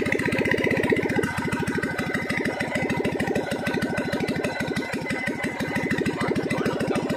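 A Kubota GZ460 engine running after conversion from fuel injection to a carburetor, a steady, fast, even mechanical chugging close by that holds a constant rhythm throughout.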